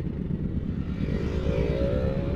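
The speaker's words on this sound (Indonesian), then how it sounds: "ini lebih dari 30 motor ya" A group of more than 30 motorcycles rides together, producing a steady, continuous engine drone that rises slightly as the pack rolls on, with no voices.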